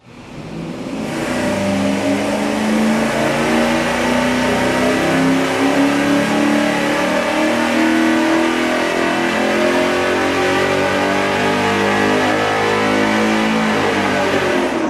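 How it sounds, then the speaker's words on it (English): Engine on a dyno running with a single exhaust, Y merge and straight-through muffler, revving up into a loud, sustained, harmonic-rich roar that holds steady at high load for the length of the run. "We're going to do that single exhaust with the Y merge with the straight through muffler."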